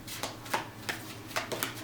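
Tarot cards being shuffled make a quiet series of soft, quick riffling swipes, about six in under two seconds, with a low steady hum underneath and no talking.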